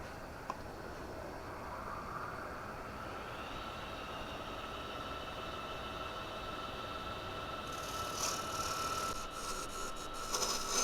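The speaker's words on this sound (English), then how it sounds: "Now it's time to take some finishing passes. I have my freshly sharpened 1/2 inch full gouge." A freshly sharpened half-inch gouge makes finishing passes on a wooden bowl spinning on a lathe, giving a steady close scraping hiss over the motor's constant whine, with a brief rougher patch near the end.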